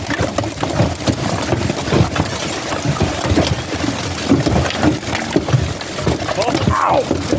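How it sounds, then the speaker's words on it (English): Half-size hailstones pummel an RV outdoors, a dense, loud, continuous clatter of hard impacts with a voice briefly audible. "Oh my gosh, there's hail! Look at all the hail!"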